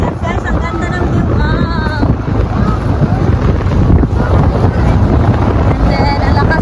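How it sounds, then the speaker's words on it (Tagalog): Strong wind roaring and buffeting a microphone on a boat ride toward Davao, loud and constant throughout, with a faint voice under the rush. "ang lakas ng hangin"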